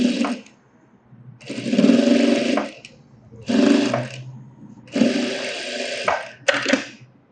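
Sewing machine stitching along a blouse edge runs in four or five bursts of whirring motor and needle clatter, each a second or so long, separated by short pauses.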